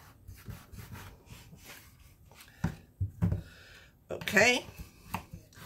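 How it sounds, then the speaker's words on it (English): Knife cutting potatoes into half-inch pieces on a wooden board for a caprese burger meal, a few sharp chopping hits and rubbing strokes amid kitchen noise, with a person talking briefly. "now I need to cut these into about half inch pieces"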